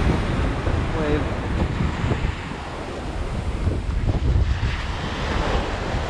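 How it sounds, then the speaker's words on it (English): Ocean surf breaks and washes up a beach during pompano fishing, a continuous loud roar of rolling waves mixed with heavy wind buffeting the microphone. "Wave."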